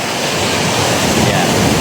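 Sea waves wash steadily onto the shore at the Mangkamagong beach resort, a loud continuous roar of surf with wind rushing across the microphone, no voices.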